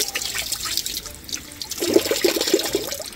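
Water runs and trickles at a campsite in Portola Redwoods State Park, a steady splashing flow that grows a little louder partway through, with no talk over it.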